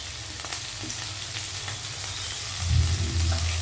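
Spiny gourd (kakrol) frying in a pan, a steady close sizzle with scraping stirring strokes that grow heavier toward the end.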